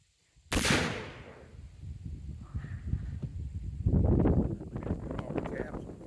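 A cap and ball revolver fires once at an outdoor range: a loud, sharp close blast with a fading tail, then wind noise and people talking.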